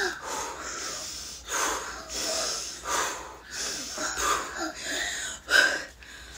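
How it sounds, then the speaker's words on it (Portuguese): A visibly anxious, flustered child breathes heavily and noisily, with a steady series of rough, close inhales and exhales and occasional sharp snorting gasps, with no other sound. "Estamos respirando aqui porque"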